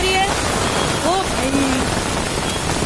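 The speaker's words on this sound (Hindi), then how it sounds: "कितनी बारिश हो रही है।" Steady rain hiss outdoors, a continuous broadband wash under brief faint voice fragments, with people nearby.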